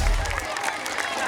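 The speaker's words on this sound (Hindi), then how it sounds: "एक बार इन गार्जियंस के लिए जोरदार ताली हो जाए" Brief applause rings out for guardians at an art fair, a crowd clapping and cheering in a quick, dense wash with some murmuring mixed in.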